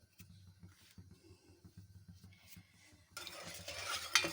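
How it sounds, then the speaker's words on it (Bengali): Dry rice flour is stirred into milk in a pot, giving soft rhythmic scraping and swishing that grows into a louder, busier mixing and sizzling sound near the end, with no talking. "আমি শুকনো চালের গুঁড়ি নিয়ে এই দুধের মধ্যে গুলিয়ে"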